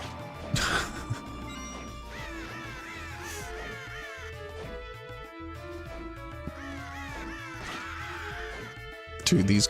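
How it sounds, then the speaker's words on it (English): Crows caw repeatedly in the video game Castlevania: Portrait of Ruin, layered over busy game music with synthetic crashes and a loud hit near the end. "these crows"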